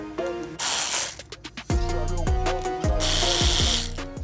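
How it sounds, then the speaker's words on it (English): A 4mm Allen key works the fender fasteners on a 2024 Yamaha MT-09 during a fender eliminator install, producing close, sharp metallic clicks and ratcheting taps in an irregular sequence, with bursts of broadband noise between them. "I will grab a 4mm Allen, and we will extract the following 2 fasteners"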